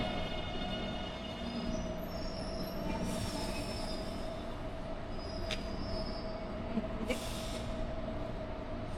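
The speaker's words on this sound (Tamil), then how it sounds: "நம்ம இப்ப ட்ரெயின் ஏறிட்டோம்." Steady rumble of a train running on rails in Taipei, with constant tonal hum, occasional wheel squeals and brief hissing bursts, heard from inside the carriage.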